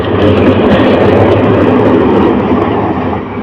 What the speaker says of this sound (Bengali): কিশোরগঞ্জ এক্সপ্রেস ট্রেনের লোকোমেটিভ তার বিপরীত পাশে গিয়ে সংযুক্ত হচ্ছে